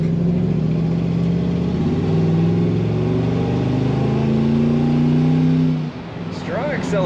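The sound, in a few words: 1951 Chevrolet 3100 pickup truck engine accelerating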